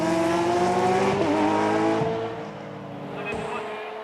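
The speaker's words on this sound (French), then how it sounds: "Il fonce sur la Ferrari de Kunz et tente un dépassement." Race cars in a GT championship, a Mosler charging at a Ferrari and trying to overtake it, with loud high-revving engines that fade after two seconds, and a commentator talking over them.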